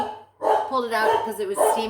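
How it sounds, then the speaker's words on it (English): A neighbor's dog barks a few times at moderate distance, the short yaps mixed with a person talking close by in a home kitchen. "Told you my neighbor's dog's out."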